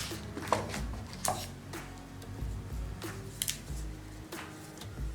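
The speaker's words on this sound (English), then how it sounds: "Let me take the phone out of the box" Rustling, scraping and soft clicks of a OnePlus 7 in Mirror Grey being slid out of its retail box, with crinkly packaging noises and a few sharper taps, close and steady with no talking.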